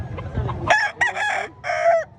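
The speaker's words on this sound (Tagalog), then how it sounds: "Wapong manok ko." A rooster crows loudly and close by at a rooster expo, a single drawn-out call in several bursts, with low clucking beneath at the start.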